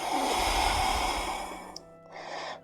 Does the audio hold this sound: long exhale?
yes